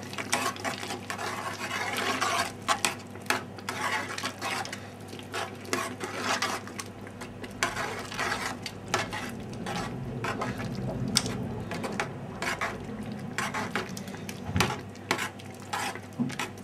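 A pan of fresh tomato pasta sauce, a Provençal-style sauce, is stirred with a spoon, giving repeated close scraping and clinking strokes with a soft bubbling sizzle underneath throughout.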